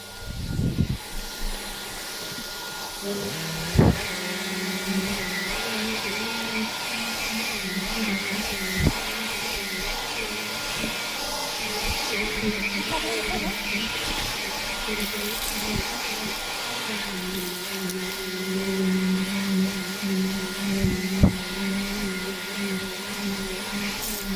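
A Shark NV601-UK vacuum cleaner runs steadily and loudly for the whole stretch, a continuous whine with occasional bumps and knocks as it is pushed around.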